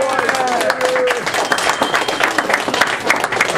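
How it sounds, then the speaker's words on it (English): A crowded evening audience at a talk on the history of the IWW labor union applauds a speaker, producing a loud, steady wash of many hands clapping. A voice overlaps the opening moment. "Let's give him a rousing round of applause."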